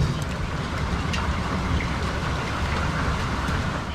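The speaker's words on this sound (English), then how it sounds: "We had hail coming down at one point." Steady, heavy rain pours down continuously during a thunderstorm, a dense hiss with scattered drops, no voices.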